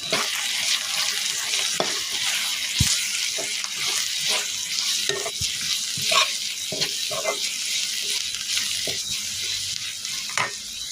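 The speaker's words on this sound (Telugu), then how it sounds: "ఆయిల్ కాగాక పచ్చిమిర్చి, కరివేపాకు, ఉల్లిపాయలు వేసుకోవాలి" Green chillies, curry leaves and onions fry in hot oil while being stirred, irregular scraping strokes over a continuous soft sizzle, close by with no talking.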